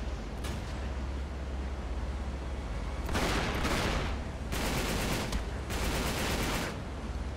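Repeated bursts of gunfire from the video game Uncharted 3, a few brief shots early then three loud sustained volleys in quick succession, close and dominant over a steady low rumble, with no talking.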